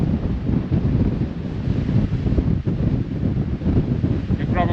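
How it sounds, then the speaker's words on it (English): Wind at a mountain summit blasts hard and steadily across the microphone in a loud, unbroken roar, with a voice faint and mostly buried beneath it. "You probably cannot hear me because of the wind, but it's beautiful."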